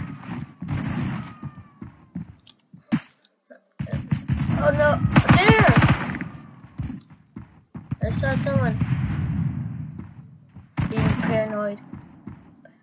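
Gunfire in the Roblox game Phantom Forces, bursts of rapid shots and heavy impacts coming in clusters, with a player talking over parts of the action.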